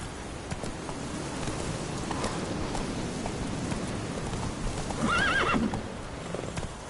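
Roach the horse in The Witcher 3 gallops with steady clip-clop hoofbeats under light rain, then gives a clear rising neigh near the end, close and moderately loud.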